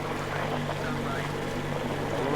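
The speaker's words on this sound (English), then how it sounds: "Kill the engine, guys!" Boat engine in the Metro Exodus game, Sam's Story, running as a steady low drone with washing water noise, constant and fairly close.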